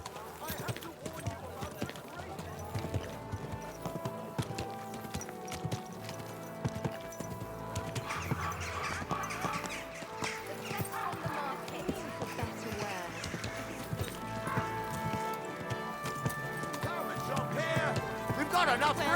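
Horse hooves clip-clop steadily at a walk through the medieval open world of Kingdom Come: Deliverance 2, under background music and intermittent character dialogue.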